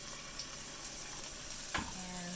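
Minced garlic frying in oil in a pan for Japanese fried rice, a steady close sizzle with a single sharp clack of a utensil near the end.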